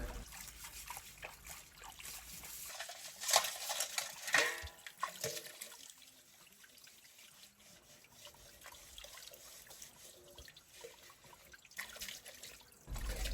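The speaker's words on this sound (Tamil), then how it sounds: "இங்கேயும் பாருங்க தண்ணீர் ஊச்சி இருக்குது" Water from a natural spring wells up out of the ground outdoors with a faint, steady trickling and burbling that rises and falls. It sits low under soft background noise, with no clear talking.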